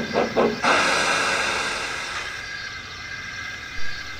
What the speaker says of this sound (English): Oliver puffed away to Nafford, where his train was waiting.